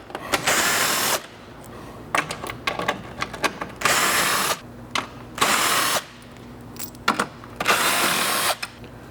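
Power tool pulling out grille bolts while a T-Rex X-Metal chrome grille is being removed from a truck, several loud whirring bursts of about a second each, separated by clicks and rattles of the tool, no talking.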